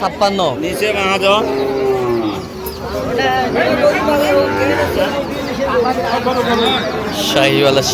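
Sahiwal cattle moo repeatedly at a cattle market, several long low calls overlapping close by, mixed with people chattering in the background.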